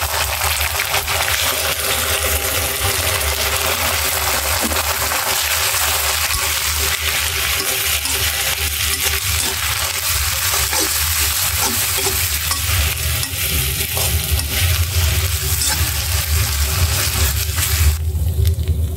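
Onions browned in a pan fry with a constant loud sizzle and crackle while a utensil stirs and scrapes, then ginger-garlic paste goes in with a wetter burst of sizzling near the end; no talk.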